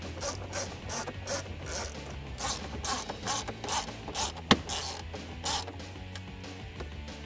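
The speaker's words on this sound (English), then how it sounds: "can take our 7mm socket and secure down the other two mounting points" A 7mm socket ratchet tightening mounting points for a navigation head unit in a RAM 1500 dash, a quiet series of rhythmic clicking, rubbing strokes with one sharper click near the end.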